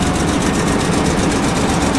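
A Jeep engine idles with an exhaust leak, a steady loud low rumble with a faint rapid ticking texture running through it, continuous and close with no break.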